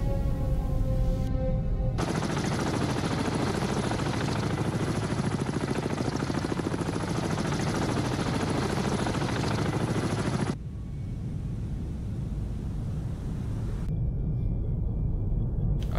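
A video game helicopter's constant rotor roar fills the scene, mixed with steady rattling gunfire that drops away near the end, leaving a quieter rumble.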